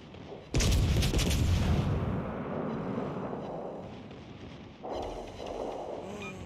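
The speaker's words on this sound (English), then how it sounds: "Look at where all the shells are landing." Naval shells explode in World of Warships Legends: a loud booming blast hits suddenly and rumbles away, then a second, smaller explosion follows near the end.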